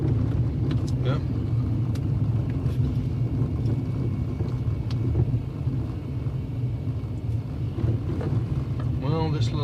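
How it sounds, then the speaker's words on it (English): A car drives along a road in Smokey Vale, Jamaica, giving a steady low engine and road rumble with some wind noise throughout, while people inside talk over it. "this little drive home will be kind of a short video"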